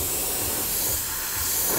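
Steady close hiss of spray paint being applied inside the cab of a 1/14 scale Tamiya Volvo FH12 RC truck, continuous without pause.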